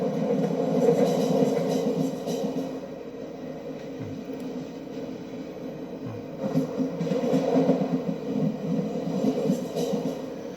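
A French TER regional train in a simulator on the Marseille Saint-Charles to Toulon route crosses points onto the adjacent track, with a steady low rolling rumble and a couple of dull clunks as the wheels pass over the switch.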